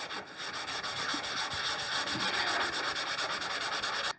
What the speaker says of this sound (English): once you're done sanding that piece or buffing that piece down